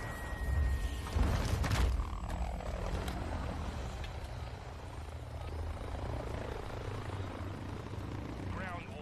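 A chopper gunner helicopter drones in a multiplayer shooter video game, a steady rotor and engine roar with a loud burst of firing or impacts early on, continuing under a player's voice and game sounds.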